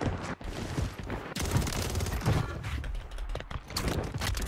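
Rapid automatic gunfire from the video game Warzone 3 rattles in dense bursts with short pauses, loud and close, interspersed with mechanical clicks and creaks.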